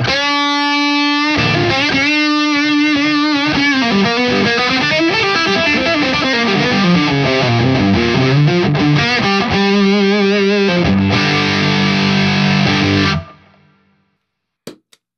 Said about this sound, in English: let's take a rat type of circuit, which as you turn the distortion past about noon, we start getting into fuzz territory